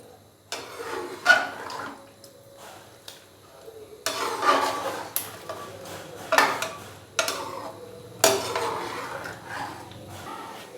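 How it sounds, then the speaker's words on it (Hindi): Fried onions stirred into a pot of chicken biryani, giving repeated scraping and clinking of a spoon against the metal pot in short bursts, close and moderately loud, with no talking. "प्याज डालने के बाद मैंने इसको अच्छे से मिक्स कर दिया है।"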